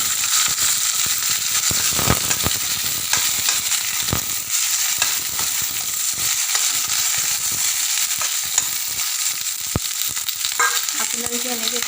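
Sliced onions frying in hot ghee for a goat mutton dish, a steady close sizzle with crackling pops and a few stirring scrapes near the end, no talking.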